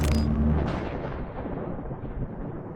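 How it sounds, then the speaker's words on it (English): A big explosion from a sighting clip booms loudly at the start, then decays into a long rumbling roar that fades steadily, with no talking over it. "Well, now there's an explosion."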